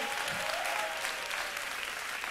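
A church congregation claps loudly and steadily, a dense, sustained round of applause that fills the room from start to finish.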